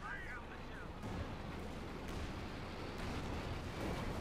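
Artillery bombardment in Company of Heroes 2, a continuous rumbling barrage of distant shell blasts and booms that rolls on without pause, with a voice talking over the battle noise.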